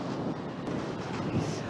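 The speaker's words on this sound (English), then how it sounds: "This is the windiest place in the country at the moment." Strong Storm Barra wind roars at the UK seaside, a dense, steady rush buffeting the microphone close up, with no voices.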